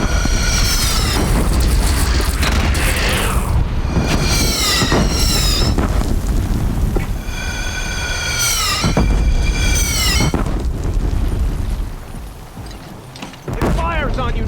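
Heavy booms from a cannon in the video game Horizon Zero Dawn repeat throughout a loud, busy battle, mixed with whining mechanical sweeps and occasional voices.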